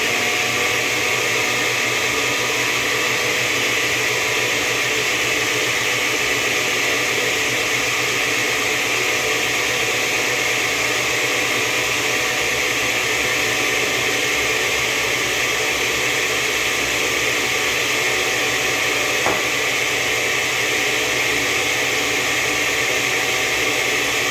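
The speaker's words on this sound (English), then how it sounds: "After that, you go full power and you put it in 3. If your blender has 5, you go to 5." A kitchen blender runs at full power on its highest speed, a loud, constant whirring roar that holds steady without pause from start to finish.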